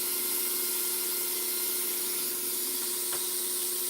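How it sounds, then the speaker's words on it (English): A Dremel rotary tool fitted with a small diamond bit grinds resin pieces, giving a steady, loud, high-pitched whine that holds evenly throughout with no pauses. "The Dremel's going, and now it's running a little diamond bit."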